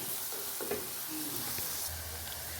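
Sardine masala sizzling in a pan during tempering, a steady close hiss of frying oil with faint stirring scrapes.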